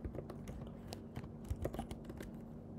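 Keys clatter on a computer keyboard as a domain name is typed, a run of quick, irregular clicks at close range over a quiet room.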